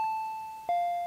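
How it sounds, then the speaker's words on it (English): Electronic doorbell chime, a two-tone ding-dong heard close and clear, the first tone sustained before dropping to a lower second note. "The doorbell continued to ring"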